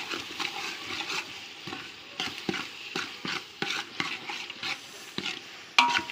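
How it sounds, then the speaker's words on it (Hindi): Golden fried onions and ginger garlic paste being stirred in a hot pan, with a soft sizzle under frequent scraping strokes at an uneven rhythm, close by. "अब हम इसमें अदरक लहसुन का पेस्ट डालेंगे।"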